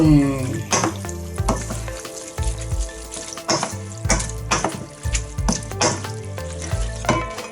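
Thai khanom jeen rice noodle salad tossed and stirred in a bowl, with rhythmic wet scraping and clinking strokes repeating steadily over background music.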